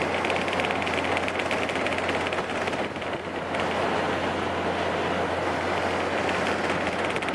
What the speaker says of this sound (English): here's the subway train going over the bridge now